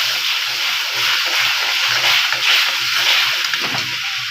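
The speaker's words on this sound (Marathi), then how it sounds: "यामध्ये थोडं पाणी सोडायचं." Water poured steadily into a cooking pan holding pasta for a spicy gravy pasta, a continuous broad splashing gush at close range with no pauses or talk.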